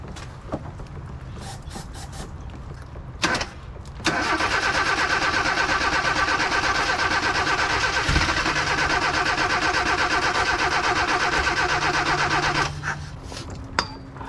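Mazda B2000 pickup engine cranks and catches, then runs at a steady idle for about eight seconds before shutting off, close and loud with a few faint knocks around it.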